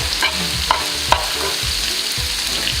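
Green chili paste fries in a pan with a steady crackling sizzle, broken by a few sharp scrapes and clinks as it is stirred, close and alone with no talk.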